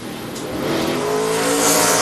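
Chevrolet NASCAR Cup race car on a 2006 qualifying lap at Martinsville, engine loud and close, droning then rising steadily as it comes back onto the throttle.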